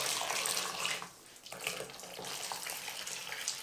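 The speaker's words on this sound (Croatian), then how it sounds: "Paradajz stavite u zdjevicu i prelijte ga vrelom vodom." Boiling water poured over tomatoes in a bowl: a steady, close hiss of running, splashing water with a short dip partway through.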